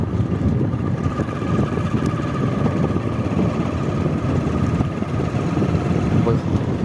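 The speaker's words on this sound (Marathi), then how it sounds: "जॉन डियर ट्रॅक्टर आहे." A John Deere tractor engine runs at a village fair, giving a steady low rumbling drone with wind noise across the microphone throughout.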